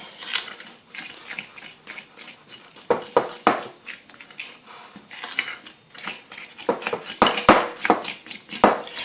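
Whole wheat pancake batter with small fruit pieces is stirred in a bowl, giving irregular close scraping and clinking strokes of a utensil against the bowl, growing busier toward the end, with no talking.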